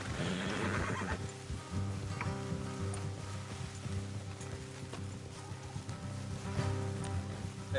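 In Red Dead Redemption 2, horses whinny and neigh near the start while hooves clip-clop faintly underneath, with a soft buzz of insects in the background.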